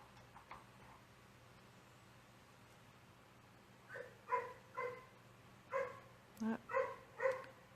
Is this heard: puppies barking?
yes